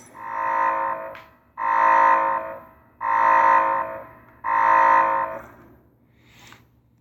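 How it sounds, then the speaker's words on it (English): A buzzy electronic alarm from Halo 5: Guardians blares in four evenly spaced pulses, each about a second long, followed by a faint fading tone. "And then alarms like this."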